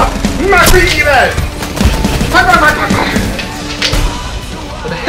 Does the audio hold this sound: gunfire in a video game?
yes